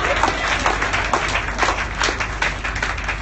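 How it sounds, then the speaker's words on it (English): A church congregation at a Jamaican healing service claps hands in praise, a steady rhythmic beat of many hands, moderately loud, with crowd voices blended underneath. "Let's clap our hands and praise the Lord."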